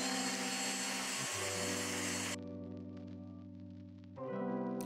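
A drill boring a hole through a wooden desk, heard as a steady, close motor whine whose pitch drops and rises as the bit loads and frees up, with a brief quieter stretch before it speeds back up and no talking.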